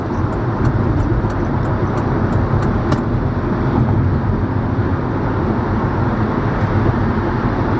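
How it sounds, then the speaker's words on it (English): Car cruising north on the 65 freeway, a loud steady road and engine roar with broad traffic noise all around and no talking. "now we're on the 65 freeway going north"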